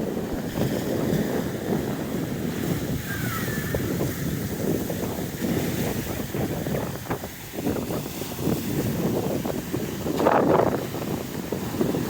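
Sea waves rolling and breaking on a beach in Odesa, a steady loud wash of surf with wind buffeting the microphone throughout.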